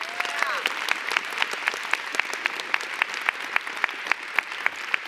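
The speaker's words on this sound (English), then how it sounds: "big round of applause for Carrie" A small school audience at a spring play claps in a steady, fairly even rhythm, moderately loud and close, with faint murmuring in the background.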